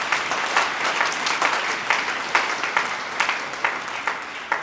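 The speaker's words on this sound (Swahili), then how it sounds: "Tumpigie Roho Mtakatifu makofi tena." A Pentecostal church congregation breaks into sustained applause, dense clapping from many people at moderate distance, steady and even throughout with no voices standing out.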